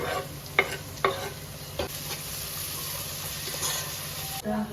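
Carrots, peas and chilli with tomato and salt stirred in a frying pan, a few sharp spoon knocks over a continuous soft sizzle, close by and fairly quiet.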